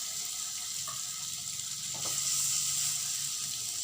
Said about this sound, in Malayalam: നമുക്കിനി മീനൊക്കെ ഒന്ന് വറുത്തെടുക്കാം.